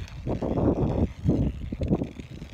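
Non-rolling cane tip scraping along the ground, three rough, gritty sweeps close to the microphone, each lasting about half a second.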